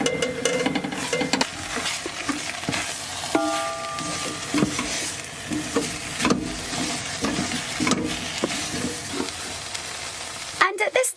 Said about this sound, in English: cook the flour off for about 2 minutes